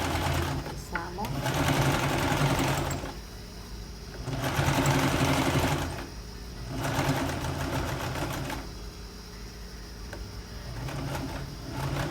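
Sewing machine stitching a seam on shirt fabric, close and loud, running in several bursts of rapid mechanical chatter with short pauses between them.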